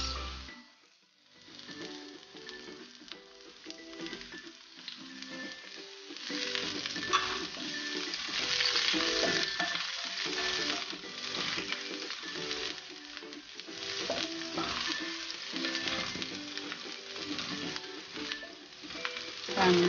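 Garlic and then onion fry in a pan for chicken afritada, a continuous crackling sizzle with occasional scraping as the pieces are stirred, moderately quiet and without talk.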